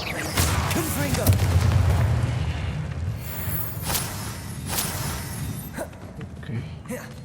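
Confringo fire spell explosions in the Hogwarts Legacy video game: a few sharp, broadband blasts with whooshing tails burst over a continuous low rumble of game sound.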